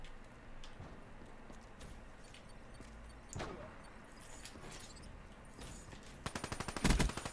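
The Weevil assault rifle fires in Black Ops 3, a rapid, clipped burst of automatic shots near the end, preceded by scattered quieter gunfire and game noise, all fairly faint.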